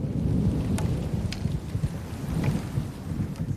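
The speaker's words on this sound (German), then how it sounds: "Da zieht wieder Regen und auch noch ein Gewitter auf." A thunderstorm with rain rolls over the South Tyrol Alps, a steady deep rumble under a dense hiss of rain and wind, with a few sharp drips or cracks standing out, continuous and fairly loud.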